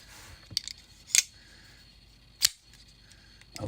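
A folding knife blade locking up gives a few sharp, isolated clicks spaced apart, faint and close, with quiet handling noise in between and no talk.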